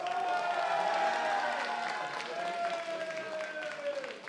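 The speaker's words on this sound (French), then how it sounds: "Allez, attendez un applaudissement pour Okami-sama" A crowd at the Otak'est cosplay contest applauds a cosplayer, moderately loud clapping with some cheering, under tonal music or a held vocal note.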